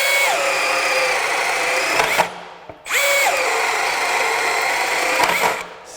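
A Milwaukee M18 compact brushless drill bores a 7/8 inch hole, whining loudly and steadily under load in two long runs separated by a brief pause, with no talking.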